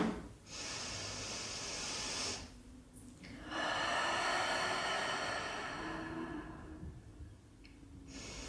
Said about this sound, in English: take 3 cleansing breaths